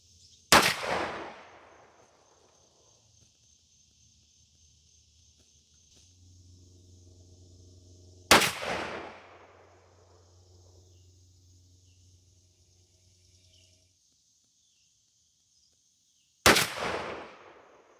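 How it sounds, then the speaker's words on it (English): Three sharp shotgun blasts from a Stevens 301 20 gauge firing steel shells outdoors, spaced about eight seconds apart, each loud and followed by a decaying echo, with a faint engine-like hum between the first two. "So let's take our shots and see what we get."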